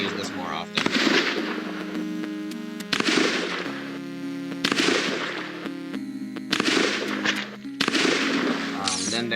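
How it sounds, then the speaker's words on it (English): Shotgun blasts in a zombie video game, several loud booming shots a couple of seconds apart, each followed by a short ringing tail, over steady game background music. "Next is the shotgun, which it does 2 damage, 2 points, which is more than half of the default zombie"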